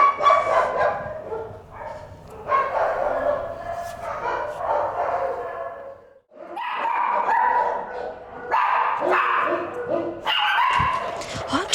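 A dog barks in short bursts close by, with people talking around it and brief pauses between the barks.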